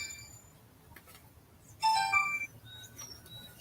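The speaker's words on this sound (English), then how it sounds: "Let's see who's ringing." A phone ringtone sounds in a garden, a brief bright electronic melody of a few tones rising clearly over quiet outdoor background, with faint bird-like chirps before and after.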